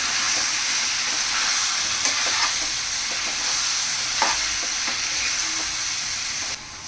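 Chicken pieces for Thalassery chicken biryani being stirred with dry-roasted spice powder in a hot pan, a steady loud sizzle with scattered scrapes and clinks of stirring, close up and without any speech.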